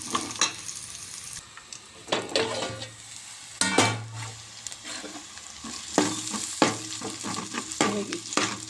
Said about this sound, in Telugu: ఉల్లిపాయలు కొంత వేగినాయి